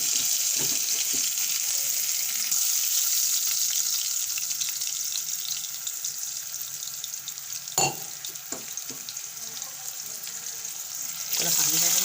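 Water poured into a hot pan of frying whole chillies, garlic, cumin and curry leaves for a Hyderabadi chilli curry, producing a loud, steady hiss and sizzle with a few clinks, no talking.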